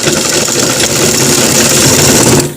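A sewing machine stitching a shirt collar, its motor giving a loud, close, steady whirring drone without pause, easing off slightly at the very end.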